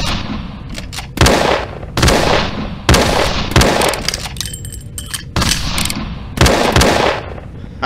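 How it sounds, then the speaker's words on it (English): Loud gunfire and shattering impacts from the 2005 zombie video game Brian Keene's The Rising, several sharp blasts in irregular bursts with ringing tails, alone without talk. "Somebody's shooting at me."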